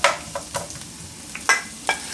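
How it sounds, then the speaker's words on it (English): Onion frying in extra virgin olive oil, a soft sizzle broken by several sharp scraping stirs of a utensil against the pan, close and clear with no talking. "So you want to just caramelize this onion, to the stage where it's clear"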